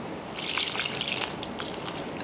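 Cold water trickles and splashes into a bowl of tempura batter made with flour, one egg and a dash of salt, a light broken pour for about a second before the flow thins out.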